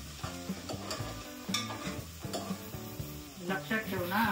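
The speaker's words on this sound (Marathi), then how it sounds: "मी फक्त ढवळत आहे" Prawn masala for Malvani prawn curry is stirred in a pan, giving a quiet sizzle and soft scraping under background music with tonal notes, no clear talk.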